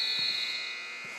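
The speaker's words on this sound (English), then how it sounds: "the buzzer's gonna expire" A steady electronic buzzer drones at halftime of a women's varsity basketball game between the Humber Hawks and the Mohawk Mountaineers, sustained and fairly loud, fading slightly toward the end.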